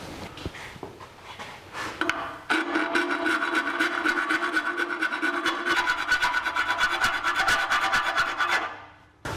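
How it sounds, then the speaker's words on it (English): A hand file rasps at a notch in the frame of a 1982 Jeep CJ7, with fast, even back-and-forth strokes that run steadily for several seconds, loud and close. "what we got to do is file like right there"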